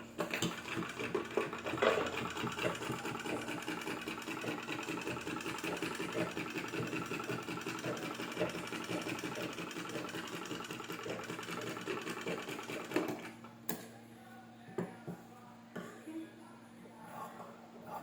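A sewing machine stitches a frock bodice, whirring steadily and close for several seconds before stopping, followed by quieter handling noises.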